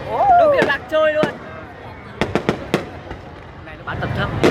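Fireworks burst outdoors at a Vietnamese street display, a quick cluster of sharp cracking pops in the middle, with people chatting and calling out around them before and after.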